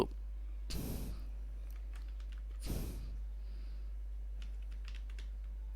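Typing on a computer keyboard during php coding, two brief bursts of soft clicks over a steady low hum, faint and close, with a few scattered light taps afterward.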